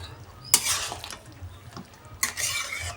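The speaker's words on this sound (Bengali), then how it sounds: "এবার নেড়ে চেড়ে দেবো।" Duck meat being stirred in a cooking pot, two bursts of wet scraping and sloshing with a metal utensil against the pot, close and moderately loud, separated by a quieter pause.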